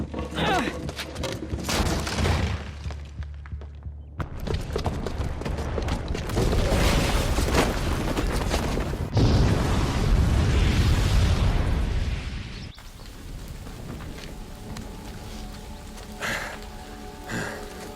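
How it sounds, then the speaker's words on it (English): In Horizon Zero Dawn Remastered, a booby-trapped bomb explodes in a long, roaring blast with crackling bursts and rumbling debris that builds over several seconds, then fades into lingering hiss and scattered rubble. "the booby trap on the bomb downstairs is gonna get set off"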